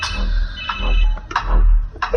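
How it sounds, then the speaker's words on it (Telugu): A telephone rings in short repeated electronic bursts, close and fairly loud, with a low hum underneath. "ఫోన్ వస్తుంది చూడు,"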